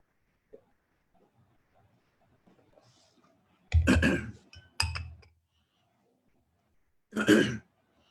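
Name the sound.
cough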